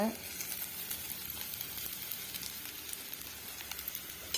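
Onions frying in a pan with salt, turmeric and chilli powder as they are stirred, a soft steady sizzle with faint scraping throughout, fairly quiet and close.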